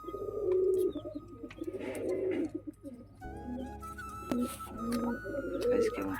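Pigeons coo in a close, low, throaty rolling rhythm, with repeated bursts layered over each other and faint background noise.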